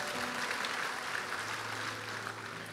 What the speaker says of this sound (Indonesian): Ya jangan asal tepuk tangan,